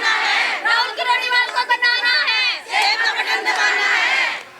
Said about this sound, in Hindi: इनकी नारेबाजी देख लीजिए पहले तो, किस तरह की बातें हो रही हैं, क्या कहा जा रहा है।